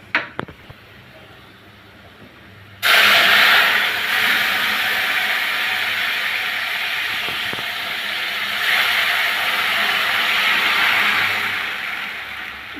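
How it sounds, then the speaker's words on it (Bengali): Lentils are poured into hot garlic tempering for a tomato dal, setting off a sudden loud, steady sizzle that carries on close up after a few faint clatters. "এখন আমি ডালটা ঢেলে নিব।"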